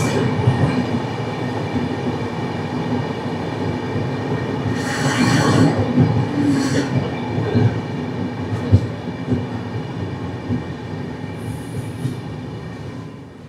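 A train rumbles steadily through a tunnel near Jamalpur with a low, continuous roar and faint wheel rattles, bursts of hiss and a brief high squeal rising over the enclosed din.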